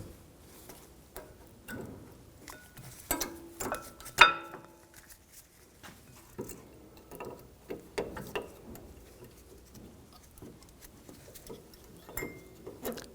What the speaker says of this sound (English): take the brake pads and install the brake pads